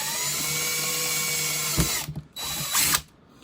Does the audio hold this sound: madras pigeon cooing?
no